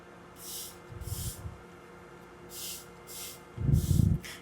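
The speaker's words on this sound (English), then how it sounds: "So you just want to spray the area, just a light coating in the area you're planning to print on." Short hissing bursts of DTG promoter sprayed from a spray bottle onto a garment before UV printing, five separate puffs at an uneven pace, close by, with some low handling noise and no talking.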